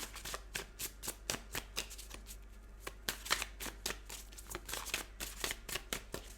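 Tarot cards are shuffled near and quietly, a rapid series of short riffling bursts repeating in an uneven rhythm, with no talking.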